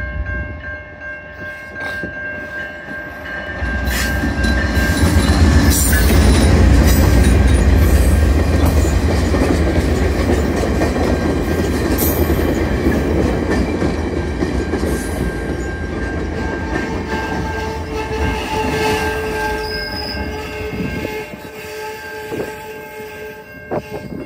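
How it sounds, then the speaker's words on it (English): VIA Rail passenger train 73, led by locomotive 905, rolls into Chatham station: a loud, close low rumble swells and lingers with rail clatter and squeal, easing off near the end. "Alright, 73 is now at the VIA station"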